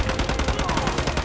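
Rapid automatic gunfire from the video game Call of Duty Modern Warfare 2 Remastered, a dense run of quick repeated shots, loud and close, with no break across the short burst.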